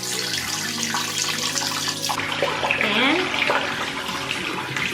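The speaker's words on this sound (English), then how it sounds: "I need to rinse first the oil that I applied on my face before I start using this one." Water running from a bathroom tap into a sink as someone rinses oil off their face: a steady rushing flow with splashing changes partway through, and a voice speaks briefly at the start.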